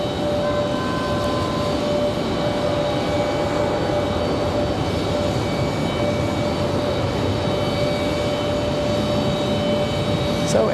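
A jet airliner lands at Raleigh-Durham International Airport, heard as a loud, steady engine roar with a thin high whine running unbroken throughout.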